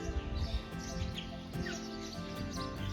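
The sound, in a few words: many loud birds chirping at temple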